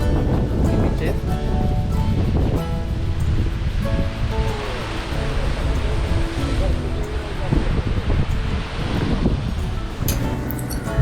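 Sea waves on the rocky coast at Sarjekot in Malvan give a loud, continuous roar of surf mixed with wind buffeting the microphone, while a person speaks over it.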